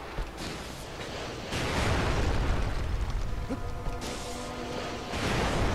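A boss's missile exploding in Shadow of the Colossus, with heavy rumbling booms that swell, hold and drop back over several seconds, loud with thick low-end roar and no voices.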